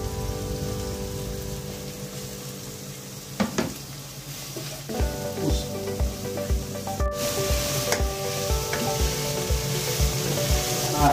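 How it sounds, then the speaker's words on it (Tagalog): Chopped onions fry in a pan with a steady, close sizzling hiss, broken by several sharp knocks and scrapes of a spatula stirring them; no one speaks. "yung sibuyas na maluto, kasi para lumabas yung lasa at saka yung bango"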